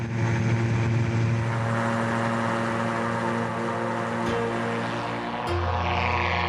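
Propeller aircraft flying over the Languedoc coast, a continuous droning engine hum with a steady buzzing tone heard from inside the cabin, loud and unbroken throughout.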